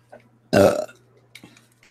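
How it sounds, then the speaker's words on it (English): One loud, short burp erupts close to the microphone and stands alone against quiet background hum, with only faint small noises before and after. "Like, I burp."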